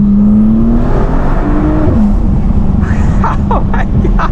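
Inside a tuned Audi S5 Sportback, the turbocharged engine accelerates hard, a loud, continuous roar with a rising whine as the revs climb.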